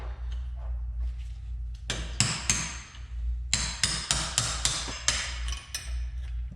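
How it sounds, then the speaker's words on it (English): A hammer drives a screwdriver to punch out a snap ring on a Dana 60 axle of a Super Duty swap, giving sharp metallic strikes in irregular clusters, close and ringing, with no talk. "Take your screwdriver or whatever other device you might want to use to punch them out."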